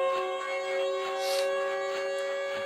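A Siren Head creature's siren wails in a horror video game, a sustained droning multi-tone blare with slow swells in loudness, heard alone with no talk over it.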